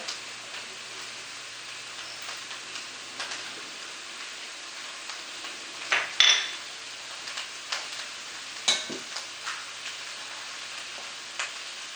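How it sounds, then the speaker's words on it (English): Garlic sautés in a pan for beet borscht, a faint, steady crackle with scattered soft pops and a few clicks of stirring across the whole stretch. "you can put some garlic inside, like saute the garlic"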